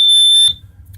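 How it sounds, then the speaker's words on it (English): A bilge water, fire and fumes alarm aboard a 1985 Sea Ray 270 boat gives one loud, steady high-pitched electronic tone that cuts off after about half a second, leaving low rumbling background. "Underneath here we have the alarm system. That'll alarm you for bilge water,"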